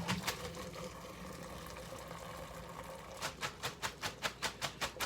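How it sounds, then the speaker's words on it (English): Cooked pasta is strained, with water gushing steadily through a colander into a sink. A rapid, rhythmic pulsing of pouring liquid follows, close and fairly quiet, with no talking. "Strain out the pasta."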